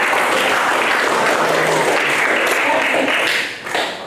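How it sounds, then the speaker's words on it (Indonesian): Applause from an audience at an Indonesian teacher-training session, loud dense clapping that holds steady for several seconds before tapering off near the end, with a voice briefly audible. "Tepuk tangan buat Mas."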